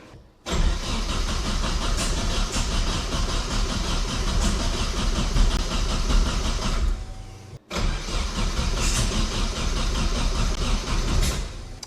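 A turbocharged Datsun wagon engine with a GT3582 turbo and timing that is off cranks and catches, running with a rough, uneven roar for several seconds, cuts out briefly, then fires up again and keeps running loudly nearby.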